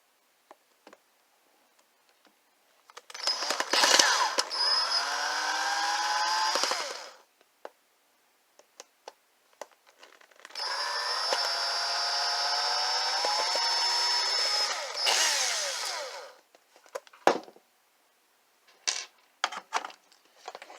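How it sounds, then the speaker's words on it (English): A power drill bores into a skateboard bat, two long whining bursts with pitch that rises and falls under load, separated by a pause and followed by scattered clicks and handling knocks. "power drills make things go quicker."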